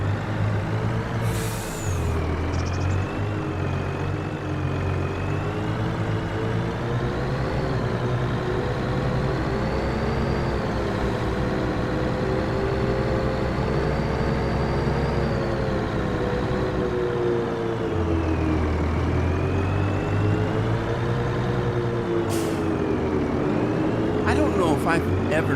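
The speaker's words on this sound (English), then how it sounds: "Okay, I need a truck. There's my truck." A truck engine in Farming Simulator 25 drones steadily at length with shifting pitch, while sharp air-brake hisses burst out near the start and again toward the end, loud and upfront.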